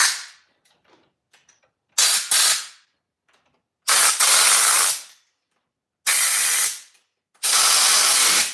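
Carburetor cleaner sprayed on a small engine during repair: four loud hissing bursts, each about a second long, separated by short pauses, with faint clicks and handling noises in between.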